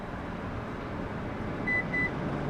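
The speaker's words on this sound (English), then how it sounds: "6 total beeps, now we're reset." A Lexus LX sounds two short, clear confirmation beeps during a memory reset, over a low steady cabin hum.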